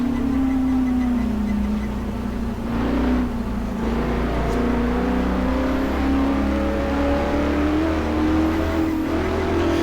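A 1954 Mercedes race car engine in a video game drones continuously, its pitch sliding down then climbing steadily as it revs through gears, loud and close with no talking.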